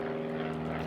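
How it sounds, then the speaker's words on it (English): A propeller plane flies over Goodwood aerodrome, its engine making a steady, droning hum with a clear tonal buzz, heard alone. "Lovely planes in and out of the aerodrome."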